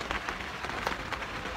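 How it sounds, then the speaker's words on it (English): Rain falls outside a camping tent in a steady, faint hiss with soft scattered patters, continuous and alone without voices. "It's raining. Can you hear it?"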